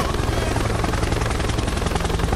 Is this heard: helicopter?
yes